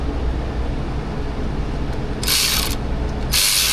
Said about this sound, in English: Let's go ahead and torque these down a little bit.